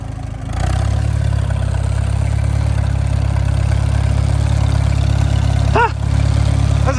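Steady idle of a John Deere 4020 tractor engine, a constant low diesel rumble running close and loud throughout, with a brief faint squeak near the end.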